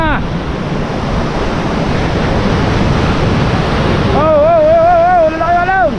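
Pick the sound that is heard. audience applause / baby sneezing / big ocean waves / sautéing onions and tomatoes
big ocean waves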